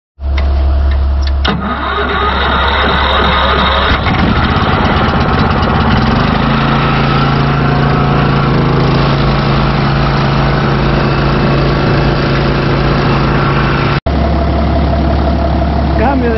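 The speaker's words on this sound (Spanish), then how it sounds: "mientras se calienta un cachito el tractor" A tractor engine idles steadily while warming up, a loud continuous low rumble with a steady drone throughout, and speech is heard over it.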